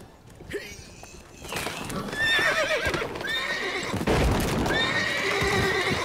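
Several horses neigh and whinny in overlapping calls in the video game The Witcher 3, with clip-clopping hooves and a busy, loud backdrop throughout.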